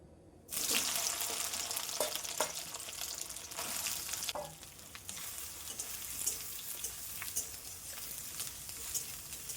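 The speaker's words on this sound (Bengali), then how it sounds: "এবার কড়াইতে তেল দিয়ে তেল গরম হয়ে গেলে সয়াবিনগুলোকে ভেজে নেব" Soybean chunks hit hot oil in a wok with a sudden loud burst of sizzling, which then settles into a continuous crackling fry punctuated by scraping stirs.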